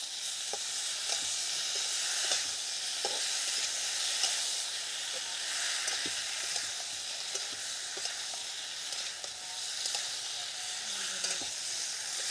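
Potatoes frying in a pan with cumin paste and chili paste, a steady close sizzle and hiss with repeated light stirring scrapes throughout.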